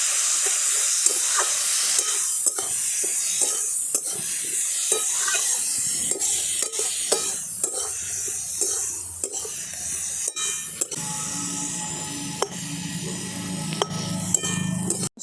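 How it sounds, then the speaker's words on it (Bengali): Spices and vegetables sautéed with a splash of water for shyama rice khichuri, a steamy hiss and sizzle broken by frequent sharp spatula scrapes and taps against the pan, close and steady throughout. "এবার একটু জল দিয়ে ভালো করে কষিয়ে নিচ্ছি।"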